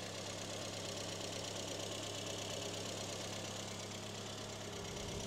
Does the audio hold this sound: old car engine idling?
yes